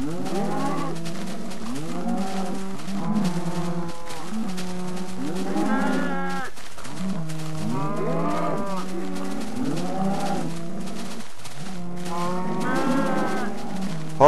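A herd of cows in Minecraft moo over and over, with overlapping, drawn-out lowing calls repeating steadily and loudly throughout.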